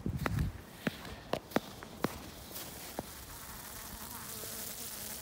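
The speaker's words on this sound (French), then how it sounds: "Ici, on a une abeille qui vient de sortir de la ruche." A honeybee's faint buzzing drone hums close by as it leaves the hive, with several sharp little clicks and taps scattered through it; quiet outdoor setting without speech.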